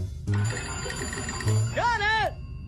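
A cartoon telephone rings in two loud, close trilling bursts, followed by a cartoon voice rising and falling.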